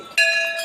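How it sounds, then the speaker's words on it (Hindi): A single bright metallic temple bell strike at Maa Ghanteswari temple, Sambalpur, rings out clearly and sustains with a shimmering, slowly fading tone. "आम आसलु घंटी टे बजे देखलु"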